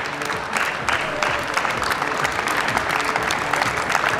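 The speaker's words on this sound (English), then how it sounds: "Please, ladies and gentlemen, a round of applause." A crowd applauds bikini competition contestants as they leave the stage, with dense, steady clapping throughout that stays loud and close.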